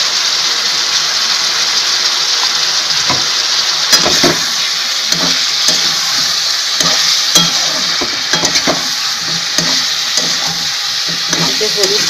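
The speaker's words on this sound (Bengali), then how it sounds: "দিয়ে এবার আলু পেঁয়াজটাকে এভাবে ভাজবো।" Potatoes and onions seasoned with salt, turmeric and white cumin powder fry in a pan, a steady loud sizzle with repeated scraping stirs throughout.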